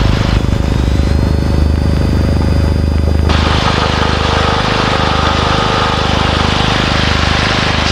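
A small plane's engine runs up to full power for a takeoff roll on runway 15 at the base of the Colorado Rocky Mountains, a loud, steady drone throughout with a pitch shift a few seconds in.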